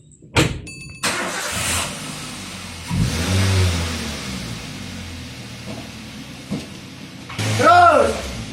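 A car engine turns over and is revved in bursts, rising and falling a few times with clicks and knocks between, while people talk nearby.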